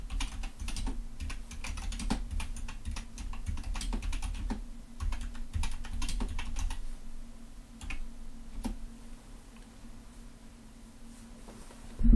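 Steady close typing on a computer keyboard, a dense run of quick key clicks that thins out toward the end.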